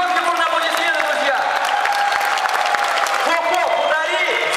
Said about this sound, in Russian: Громкий можно аплодисменты